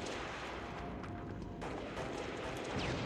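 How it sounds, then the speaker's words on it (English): Grenade launcher fire in a Halo Reach 4v4 esports match, heavy booming blasts mixed into dense, steady gunfire and explosions throughout, fairly distant and continuous. "Nade launcher does a bit of damage."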